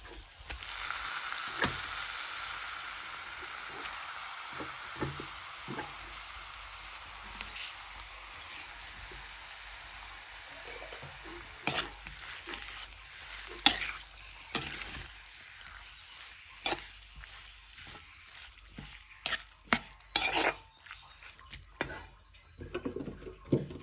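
Squid frying with onions in a pan crackles and sizzles steadily up close, while frequent spoon scrapes and knocks against the pan grow busier in the second half.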